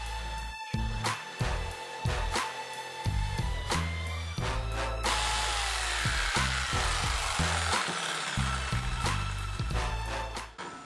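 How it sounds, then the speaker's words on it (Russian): Jigsaw cutting a square opening in a wooden clock face after a corner starter hole is drilled, a dense buzzing saw run that stops and restarts in short bursts, close and steady, with faint music underneath. "После этого пропиливаем с помощью лобзика квадратный пропил."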